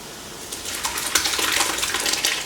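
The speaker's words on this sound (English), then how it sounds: "I'm going to pour it through my cloth and let it start straining down" Hot plum juice poured through a straining cloth makes a bright, steady splashing trickle that swells after the first half second and keeps gushing to the end, close by and with no one talking.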